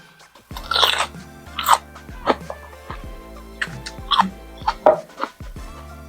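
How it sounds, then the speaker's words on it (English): Close-miked crunching bites into a spicy habanero pickle with bay leaf, a series of sharp irregular crunches and chewing bursts over about six seconds, with no talking. "I'm trying to get close to the mic so y'all can hear the crunch."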